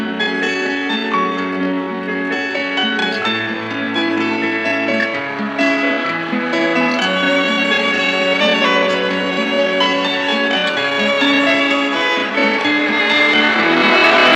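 Music pitch-shifted from F up to A, a dense continuous song with layered tones playing steadily throughout at a loud level without any talking.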